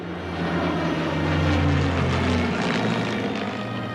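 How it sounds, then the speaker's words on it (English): A loud, steady roar of Merlin-engined RAF fighter planes, such as Spitfires and Hurricanes, passing overhead, swelling slightly and then holding, with a deep droning throb. "hear the Merlin engines pass overhead"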